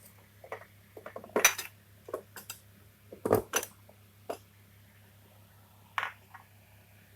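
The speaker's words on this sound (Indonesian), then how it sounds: "Kita aduk dulu rata ya." Spoon stirring broth powder, pepper and salt through a pan of dumpling filling, giving scattered clinks and scrapes of metal on metal, some loud and some faint, over a steady low hum.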